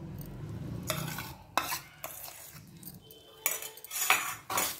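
Gram flour being roasted in ghee on a low flame while a metal spoon stirs it, with irregular scraping and clinking strokes against the pan over a soft sizzle, close and alone.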